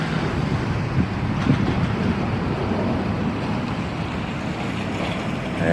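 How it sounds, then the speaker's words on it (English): A big truck passes along an outdoor road, giving a steady, heavy, broadband rumble that stays fairly loud for several seconds with no talk over it. "there's another big truck coming."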